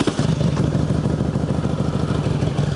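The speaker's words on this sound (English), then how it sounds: "going to fire this bike up for us real quick" A 2006 Harley-Davidson Ultra Classic Electra Glide fires up and settles into a loud, close, lumpy idle with a steady throbbing rumble throughout.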